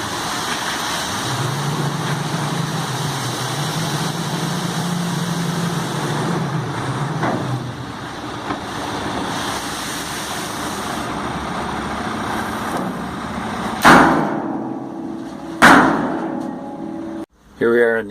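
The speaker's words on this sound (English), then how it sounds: "Here we are in the excavator, getting ready to level out a load of gravel" An excavator engine runs steadily at a gravel-levelling job, a loud continuous diesel rumble close by, broken near the end by a couple of sharp metallic clanks and a brief drop in the engine noise.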